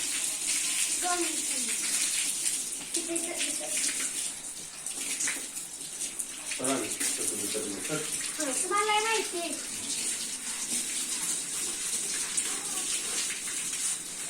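Water sprays and splashes steadily at a dairy farm, a broad hissing wash that runs throughout, with a few brief voiced sounds and clatters mixed in.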